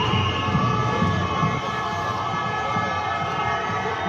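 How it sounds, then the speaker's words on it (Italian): An ambulance siren wails continuously in the distance at a street protest in Warsaw, its tone rising and falling over steady background noise and faint crowd murmur. "Ma chi è che ulula con sta sirena?"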